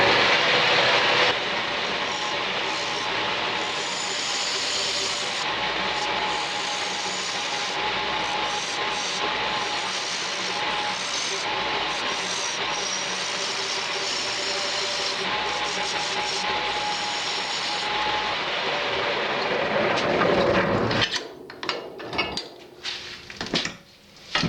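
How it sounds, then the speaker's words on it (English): A maple box being turned on a lathe with a Carter & Sons 5/8 inch bowl gouge gives a loud, continuous roaring hiss for about twenty seconds, then breaks into brief scraping clatter as the cut stops. "I'm using my Carter & Sons 5/8 inch bowl gouge, and I'm just going to go ahead and try to get some sort of a shape here."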